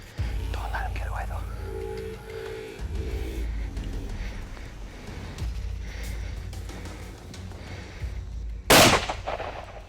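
A rifle fires at a big cat on an African dangerous-game hunt: one loud, sharp shot stands out near the end, over low rumbling field noise and faint hushed sounds.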